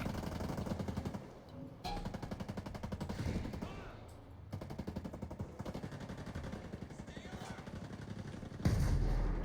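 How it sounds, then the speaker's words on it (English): Rapid automatic gunfire from the video game Ghost Recon Breakpoint rattles steadily throughout, dense bursts with a brief louder blast near the end, no talking over it. "What are they shooting at?"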